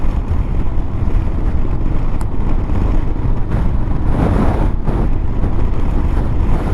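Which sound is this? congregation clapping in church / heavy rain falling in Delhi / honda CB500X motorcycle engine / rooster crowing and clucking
honda CB500X motorcycle engine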